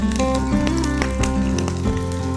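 Crushed garlic pieces go into a hot fried onion-garlic mixture and set off a steady, loud sizzle and crackle. The frying hiss is continuous, with scattered pops and some kitchen clatter.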